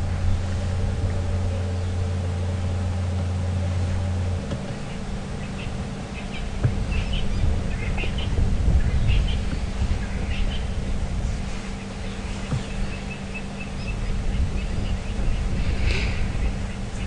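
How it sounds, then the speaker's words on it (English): At evening in Djuma Game Reserve, fork-tailed drongos, starlings and babblers call, scattered chirps and whistles rising over wind, a vehicle's engine hum and a steady low drone. "there's a sound of fork-tailed drongos and starlings and babblers"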